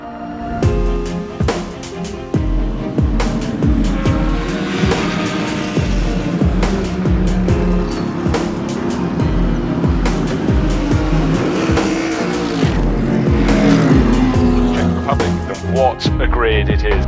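ADAC GT Masters GT race cars, including a Mercedes, racing at Oschersleben circuit, with loud engines roaring past in rapid succession and sharp gear changes, under continuous commentary.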